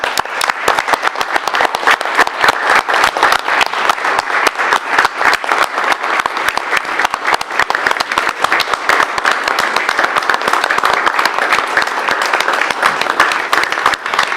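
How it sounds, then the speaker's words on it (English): Crowd applause in a Grants Pass city council chamber, a dense, continuous patter of many hands clapping at even volume throughout, with no talking over it. "I'd like everybody to give Arden and their family, for all their participation in Grants Pass, a well-rounded applause."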